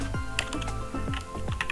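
Fingers type a search query on a computer keyboard, a handful of crisp, close key clicks tapped in an uneven quick rhythm with no voice over them.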